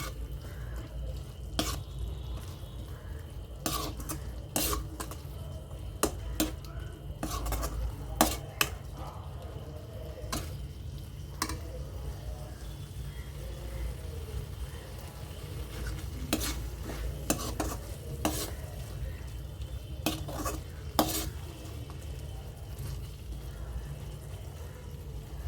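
Mutton pieces coated in masala are stirred in a pan over a low, steady sizzle. A spoon clacks sharply against the metal at irregular intervals throughout, fairly quiet, with no talking.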